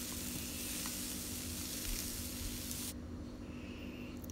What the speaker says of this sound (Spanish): Vamos a cortar unos tomates chiquitos por la mitad y los vamos a retostar por unos 2 o 3 minutos